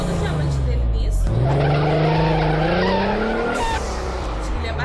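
A car in a Minecraft animation skids with a loud, sustained tire squeal that rises in pitch, over engine noise and with a brief break early on.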